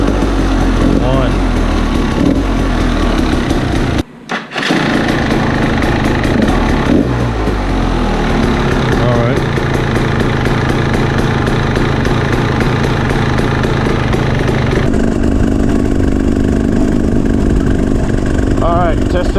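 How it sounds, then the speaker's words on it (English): A freshly rebuilt KTM motorcycle engine with a new top end and shifting mechanism runs loudly and steadily up close, with a brief cut near the start and a shift in tone later, and no voices over it. "Testing out the KTM"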